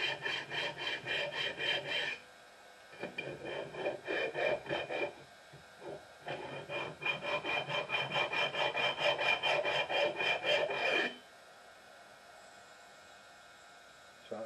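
Metal vice jaws being rubbed down by hand with an abrasive during a bench vice restoration, giving steady rasping strokes in two long bursts with a short pause between, close and fairly loud, with no talking.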